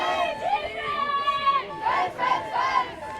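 Austrian under-17 women's ultimate frisbee team shouting encouragement from the sideline during a match against Sweden, several short rising calls in quick bursts over a murmur of voices.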